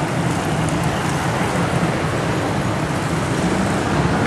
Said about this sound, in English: Welcome to the cacophony of sounds and electrical cabling that is downtown Phnom Penh.